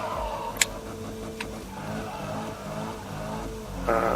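Car engine drifting in the racing game Need for Speed, a steady engine drone with a couple of short ticks and a brief tire squeal rising near the end.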